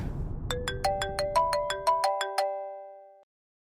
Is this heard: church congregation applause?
no